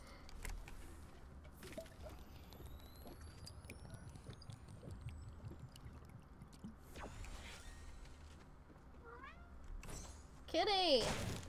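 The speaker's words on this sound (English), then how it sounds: "I don't know if you can hear my cat meowing" A pet cat meows a few times in short calls, the loudest near the end, over a quiet room with faint background noise and occasional soft clicks.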